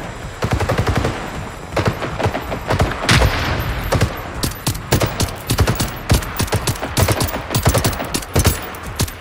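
Gunfire in the Generation Zero video game crackles through dense, loud, fast bursts of automatic shots, with sharp repeated reports packed close together for the whole stretch.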